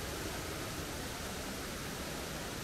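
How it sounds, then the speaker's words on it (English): Water rushing past near a waterfall: a steady, dense broadband roar that fills the whole clip without change, fairly soft in level and with no voices over it. "all you can hear is just water flashing by"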